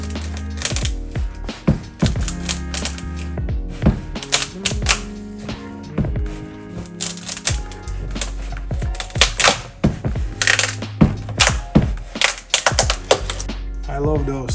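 Sharp irregular cracking and snapping on a Porsche 944 side skirt as filler lets go from the gel coat, a dense run of close, loud clicks and cracks over about fifteen seconds.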